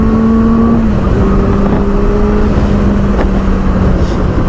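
A Benelli 600i motorcycle engine revs high under steady load, its droning harmonic tones holding loud and continuous as it pulls hard past 8000 rpm.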